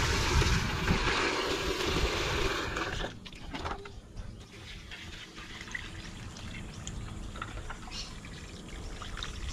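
Water from a hose gushes and pours down around a drain pipe outdoors, a loud continuous rush that drops to a quieter trickle and splash partway through.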